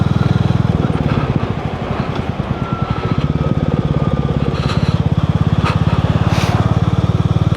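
A Royal Enfield Meteor 350 motorcycle engine thrums steadily while riding, a loud, close, continuous single-cylinder pulse with wind rush and no speech over it.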